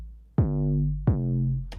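Distorted 808 bass in Logic, processed with effects, hits twice in short punchy notes with a gritty, buzzing tone and quick downward pitch drops, ending on a brief click, with no voices.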